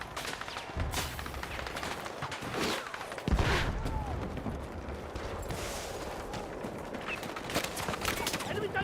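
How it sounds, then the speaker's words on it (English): Gunfire in a close-quarters fight in the Battlefield 6 beta: a dense, continuous clatter of shots and combat noise with a sharp heavy burst partway through, loud throughout, with game voices mixed in. "What is shooting at me?"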